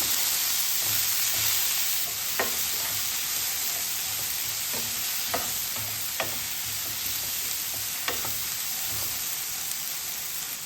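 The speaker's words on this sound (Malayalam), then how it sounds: "ഈ തക്കാളിയൊക്കെ ഒന്ന് വാടി വരുന്ന ഒരു സമയം വരെ നമുക്കൊന്ന് വഴറ്റിയെടുക്കാം." Chopped tomatoes sauté in a pan for a healthy breakfast dish, giving a steady moderate sizzle broken by occasional sharp ladle taps and stirring clicks, with no speech.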